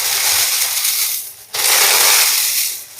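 Dry tea leaves roasting in a home pan, giving a loud, continuous dry crackling and crunching hiss with a brief dip before it swells again.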